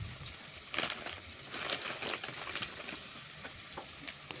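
Onion frying in a pan for a Bengali jackfruit and prawn curry, a steady close crackling sizzle with scattered sharper pops and spatters, no talk.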